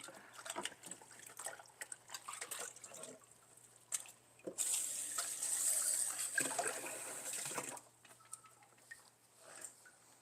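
Baby dishes, a small plate, cutlery and cup, washed under a running tap, with water splashing and trickling close by, louder in the middle as the flow hits the items, alongside light clinks.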